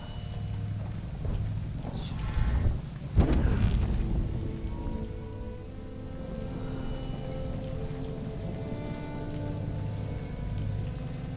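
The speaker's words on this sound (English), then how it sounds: "It's raining and it's gross." Steady rain patters in the Dishonored video game, a continuous wash of drops with a louder burst and a low rumble near the three-second mark, then settling back to an even downpour.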